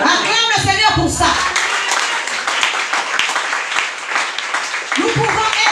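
Congregation clapping in acclaim of the Lord at a church service, dense sustained applause with scattered voices and cheers mixed in throughout, loud and continuous.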